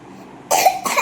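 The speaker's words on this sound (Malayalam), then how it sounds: "നല്ല ചുമയാ, ഭയങ്കര ചുമ." A child with a bad cough coughs harshly once, close, after a moment of quiet, followed by a second rougher burst.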